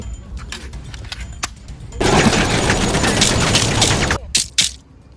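Gunfire from a zombie-shooting video game rattles in a dense, sustained burst of rapid shots, framed by sparse clicks and single pops before and after.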